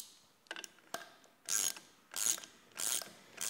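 Socket wrench ratcheting to tighten the prop nut on a Minn Kota Terrova trolling motor: a few light clicks, then three loud, close ratcheting strokes in an even rhythm.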